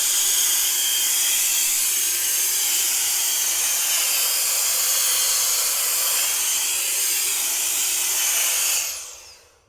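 GOOLOO F1 cordless compressed air gun rated at 160,000 RPM blowing hard at close range, a loud, steady high-pitched hissing roar that runs for about nine seconds before spinning down and cutting off.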